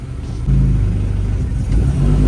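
A race car engine rumbles at low speed as the car starts rolling slowly, the idle drone stepping up in loudness partway through and holding a steady, throaty hum, close and alone.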